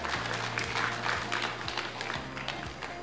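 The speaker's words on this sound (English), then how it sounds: "Round of applause to group number 6" Steady applause from an audience at a youth leadership forum, dense clapping throughout with low speech or PA hum underneath.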